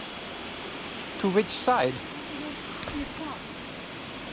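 The Berkelah Waterfall near Kuantan, Pahang, Malaysia, gives a constant broadband rushing roar in the background, steady throughout while someone speaks briefly over it.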